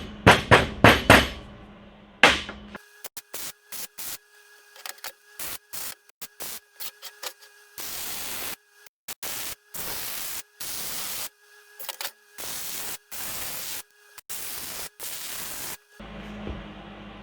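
Steel tube pieces for a chassis table are welded in a run of short crackling, hissing bursts that start and stop repeatedly at close range. A few loud knocks come first.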